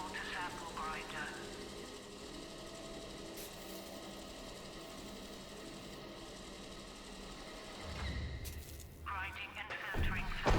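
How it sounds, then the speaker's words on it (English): Sample grinder in Atomfall grinding and filtering, a steady mechanical whir and hum running evenly, with a louder clunk and rising machine noise near the end. "Grinding and filtering sample."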